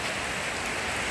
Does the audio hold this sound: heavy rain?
yes